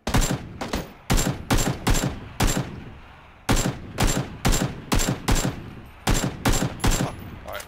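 Bursts of automatic gunfire from PUBG during a three-man squad match, crackling in rapid clusters of shots with short gaps, fairly close and with no voices over them.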